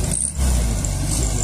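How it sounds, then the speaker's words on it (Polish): A Volkswagen Beetle pulls in at a vintage vehicle championship elegance contest in Stalowa Wola, a short burst of mid-pitched engine noise rising briefly and holding steady. "Znaczy Garbus przyjechał."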